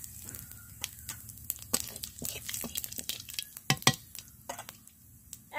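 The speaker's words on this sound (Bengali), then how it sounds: "দেখুন এই তেলটাও গরম হয়ে গেছে, তো আমি এখান থেকে কিছুটা জিরে দিয়ে দিচ্ছি।" Cumin seeds tossed into hot mustard oil in a pan, crackling and popping in quick irregular bursts over a low steady sizzle, with occasional spoon stirring; close and fairly quiet.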